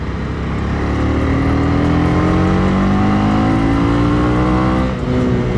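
A Honda CB 250 R motorcycle engine revs up and holds high, rising and falling in pitch with steady, loud throttle blips, close and continuous with no talking.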